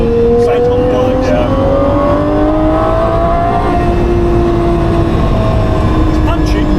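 Gordon Murray T-50 supercar engine accelerating on a downhill road, a loud close engine note rising in pitch through gear changes against heavy wind rumble.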